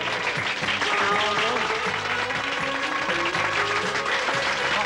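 Applause rises for the instrumentalists in a Turkish gazino music hall and runs continuously. Sustained tones from instruments and faint voices sit underneath.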